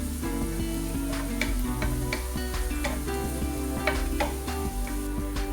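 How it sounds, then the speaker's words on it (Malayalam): Garlic sautéing in a pan for a chicken mayo sandwich, a steady close sizzle with scattered crackles and stirring scrapes running throughout, no voices. "ഇനി ഇതൊന്ന് സോട്ട് ചെയ്തെടുക്കാം."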